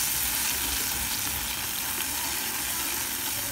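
Paneer makhani gravy bubbles and sizzles steadily in a pan while it is stirred, a dense, even hiss that stays loud and unbroken throughout, with no talking.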